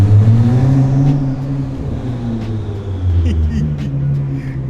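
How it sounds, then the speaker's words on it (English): A loud Nissan GT-R engine rumbles and revs inside a parking structure, its deep exhaust note echoing off the concrete while someone talks over it. "The car is so loud in here."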